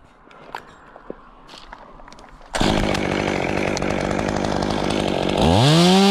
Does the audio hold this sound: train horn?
no